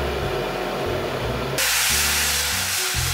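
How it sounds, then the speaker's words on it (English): An electric kettle heats water with a low rumbling build-up. Partway through, it switches abruptly to a loud, sustained steamy hiss that continues to the end. "Let's just start off by turning on the kettle."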